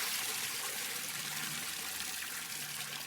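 Water is poured into a nylon travel bag during rinsing, giving a continuous splashing, trickling rush that holds steady and fairly loud for a few seconds with no talking.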